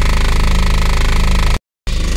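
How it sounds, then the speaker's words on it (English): A BMW E46 with an M47 diesel engine idles under repair, a loud, close, rough rhythmic clatter that cuts out briefly near the end and then resumes. "now that the car is idling"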